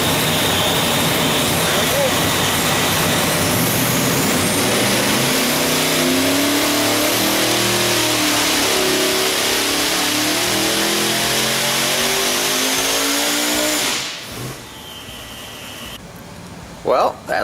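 A 2500+ hp Vortech-supercharged Top Sportsman race engine roars on a dyno pull, a loud, sustained rising wail with a whining supercharger tone that cuts off sharply near the end, followed by quieter room sound.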